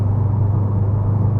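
A 2018 Subaru STI on the move, with a steady low engine and exhaust drone blended with tire and road rumble from inside the cabin, even and continuous throughout.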